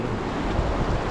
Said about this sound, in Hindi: ठंडी हवा चल रही